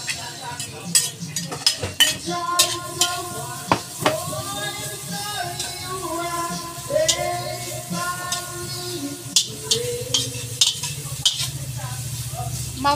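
Garlic and onion sizzle steadily in a hot pan for a beef papaitan dish, with frequent scraping and clinking stirs of a metal utensil against the pan, close and continuous, while voices murmur faintly in the background.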